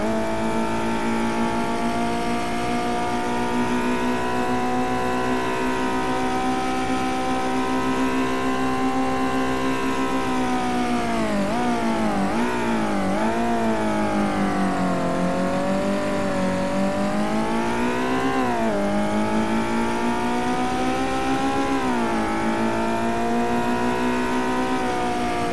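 Historic race cars roar around Circuit du Laquais in a VR racing game, one loud, close engine droning steadily, its pitch sweeping up and down through gear changes and corners, with rival cars nearby and no talk.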